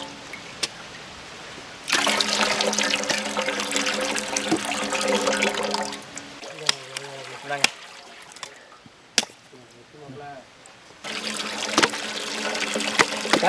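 Water is poured into a cooker in a village kitchen during juice making, a rushing, splashing stream that comes in two sustained bursts with quieter gaps and some talking between them.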